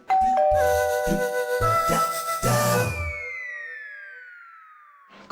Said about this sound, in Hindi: जल्दी, घंटी बज रही है।